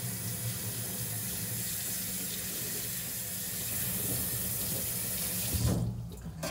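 Raw chicken being washed under a running kitchen tap, a steady close hiss of water splashing into a sink, continuous throughout with a brief louder splash near the end.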